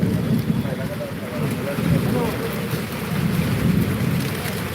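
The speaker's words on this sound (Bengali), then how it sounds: "সঙ্গে ঝোড়ো হাওয়া দিচ্ছে দর্শক বন্ধু বৃষ্টি হচ্ছে বজ্রবিদ্যুৎ সেই সঙ্গে ঝোড়ো হাওয়া" Gusty wind during a thunderstorm with rain over Medinipur town, roaring as a steady, loud low rumble of wind buffeting the microphone throughout, swelling and easing in gusts.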